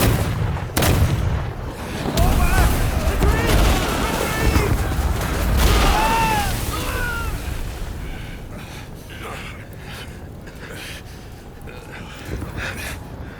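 A crackling volley of musket-style gunfire from troops in the Rise of the Ronin video game, with booming blasts and a dense rumbling barrage up front that thins into a lingering background roar.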